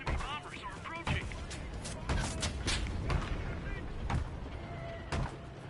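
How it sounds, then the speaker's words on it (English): Artillery barrage in the WWII shooter game Enlisted: repeated sharp booms and blasts scattered over a dense rumbling battle background, with voices talking over the fire. "Artillerie, Feuer!"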